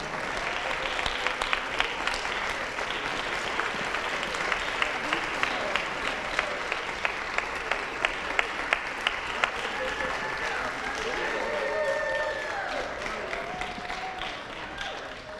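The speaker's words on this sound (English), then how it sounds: "And give them all a big round of applause." A church audience applauds children after their Vacation Bible School play about the miracles of Jesus, with dense sustained clapping, a few sharper individual claps standing out, and a swell near the end.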